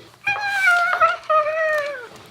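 A child pretending to be a cat gives two drawn-out, close meows, a voice imitating a cat, with a short break between them and no other talk.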